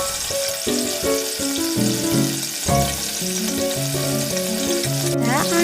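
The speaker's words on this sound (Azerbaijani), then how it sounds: "Hər üzü 2-3 dəqiqə olmaqla qutablarımızı qızardırıq yağda." Cheese qutab flatbreads fry in oil in a pan, a continuous bright hiss of sizzling running throughout beneath a stepped, tuneful melody of background music.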